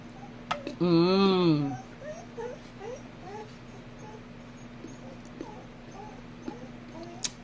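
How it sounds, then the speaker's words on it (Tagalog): A dog whimpers in a high, wavering whine near the start, followed by quieter chirps and small thuds in a calm room. "Ang ingay ng aso ko."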